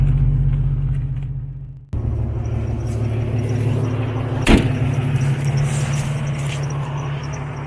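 A Jeep engine fires up after a quiet low hum, the starter catching into a steady, close idle rumble that continues with a brief sharp click midway, no talking.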